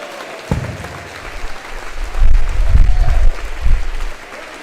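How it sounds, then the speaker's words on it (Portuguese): A church congregation claps and applauds during a lively worship service, the clapping rising and falling in uneven swells with some low rumbling thuds, fairly close and loud, with no clear speech on top. "Bate palma e aplaude a Jesus."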